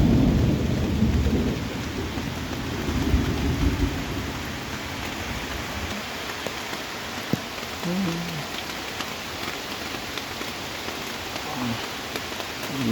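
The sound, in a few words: rain falling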